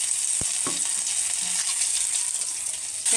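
Mustard seeds, urad dal and vadagam tempering in hot ghee in a kadai, a steady bright sizzle with a few sharp pops and crackles near the start, close and continuous, with no talk.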